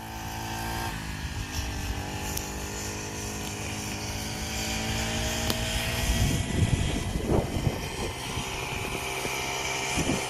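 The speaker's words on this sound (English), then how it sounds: "This is my dad on the scooter." Small gas-powered Giggle Phat Boy scooter engine running steadily as it is ridden, a buzzing droning whine that holds constant, gets a bit rougher and louder midway, with no talk.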